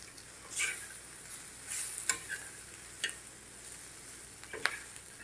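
Green chillies fry gently on low gas in a pan, giving a faint, steady sizzle broken by a few soft stirring scrapes and clicks.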